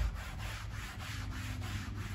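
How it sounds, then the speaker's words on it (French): A bristle pad scrubs a vehicle surface in quick, even back-and-forth strokes, a faint close rasping rub repeating about four times a second, with no voices. "Et vous venez passer votre pad qui avec sa composition en poil permet de bien gratter"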